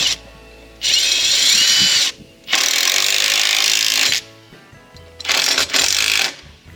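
A power driver runs in several bursts while tightening bolts on a steel bull ring gate latch, loud and close, each whirring run stopping abruptly, with no talking.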